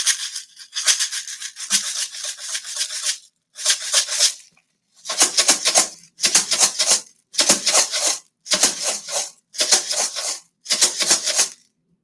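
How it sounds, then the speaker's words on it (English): Dried beans and rice shaken in a homemade shaker make loud, close, hissing rattles. One long burst is followed by a series of regular short bursts with brief silences between them. "my number 2 sound is my dried beans and rice"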